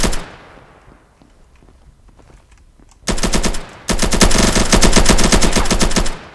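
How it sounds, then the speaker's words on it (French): Automatic weapon fire in the online shooter game Polygon: after a quiet stretch, two sustained rapid-fire bursts ring out loud and close, separated by a brief pause. "On tire comme des bourrins à grande rafale et ça touche pas pour autant"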